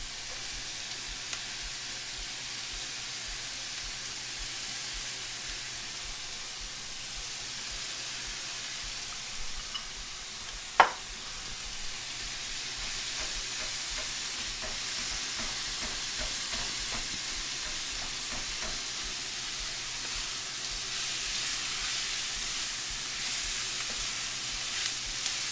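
Egg frying in a pan for fried rice, a continuous close sizzle with faint stirring scrapes and one sharp clink of a utensil partway through, no talk.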